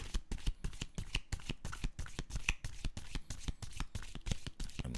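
Oracle cards are shuffled by hand in quick repeated riffling bursts, close and fairly quiet, with no one talking.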